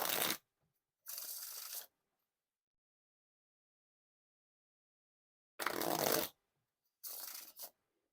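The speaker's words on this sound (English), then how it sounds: "Now for the Riffle Shuffle or Bridge Shuffle." Riffle shuffles of a DeLand's Donut Shop deck of playing cards, four separate close, crisp bursts of fluttering card noise, each lasting about a second and split by quiet pauses.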